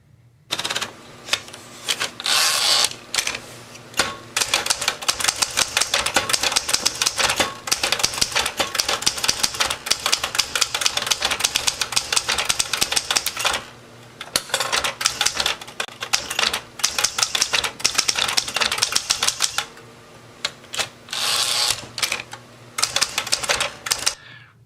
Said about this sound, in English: carriage return lever made sort of a zip noise as you pushed the carriage back to the starting position